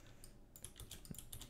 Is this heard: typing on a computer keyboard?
yes